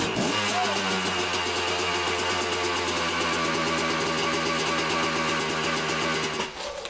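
A kick-started motorcycle catches and keeps running, its engine puttering in a steady, rapid rhythm with a few rising revs, close and loud throughout before dropping off at the very end.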